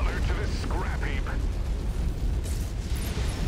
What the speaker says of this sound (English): Ooh, ammo explosion.